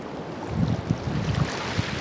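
Ocean waves wash against the shore in Rarotonga, a soft steady rush with gentle surges and some wind noise over the microphone, heard alone in a calm outdoor setting.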